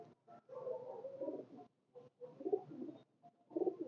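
A golden pigeon coos in a series of soft, low, throaty phrases separated by short pauses, close and fairly quiet.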